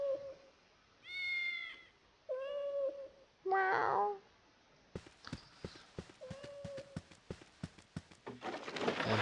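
Cats in the Baldur's Gate video game give three distinct, fairly loud meows in close succession, followed by a steady run of clip-clopping hoof steps and a rising noisy wash near the end.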